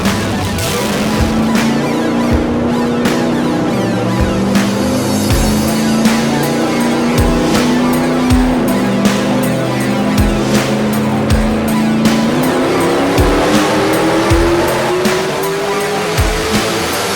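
Nitrous-fed drag race car engine held at wide-open throttle on a dyno, a loud sustained roar whose pitch climbs steadily over about seventeen seconds, alone with no talk.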